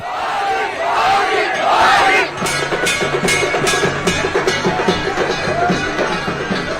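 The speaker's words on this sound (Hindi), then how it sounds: "लोग मोदी मोदी के नारे लगा रहे थे" A large street crowd chants Modi's name in loud, rhythmic repeated bursts during his roadshow in Banaskantha, following an initial swell of general cheering.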